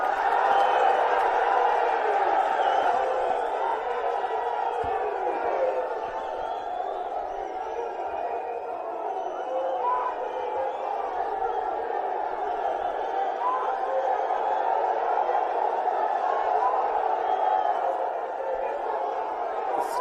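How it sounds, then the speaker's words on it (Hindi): A large outdoor crowd roars and cheers continuously at an India alliance political rally, a dense, sustained wash of voices welcoming Rahul Gandhi onto the stage. "जोरदार तालियों से सब साथी स्वागत करेंगे माननीय राहुल गांधी जी का"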